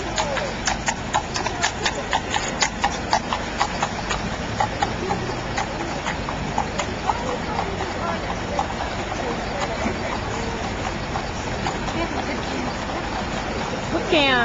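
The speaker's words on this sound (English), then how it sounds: "so that we could see the horse carts coming down" Horse-drawn carts clip-clop past Buckingham Palace in London, a steady run of close hoof strikes going on throughout, with crowd chatter and a voice talking over the hooves.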